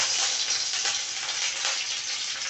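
Garlic crackles in hot oil as a tempering for red amaranth greens, making a loud, dense, unbroken hiss that holds steady from start to finish with no other sounds.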